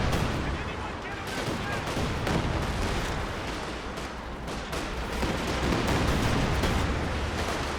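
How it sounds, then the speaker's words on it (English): In the strategy game Company of Heroes 2, double Katyusha rocket barrages rain into a battlefield's center, making a dense, continuous roar of rapid blasts and crackling fire that stays loud throughout. "Double Katyusha barrages into the center."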